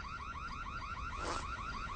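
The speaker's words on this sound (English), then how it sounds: "We are already responding to the alarm at the Old Town Hall." An alarm rings at the Old Town Hall in a steady, repeating warbling electronic wail at moderate distance, with no talking.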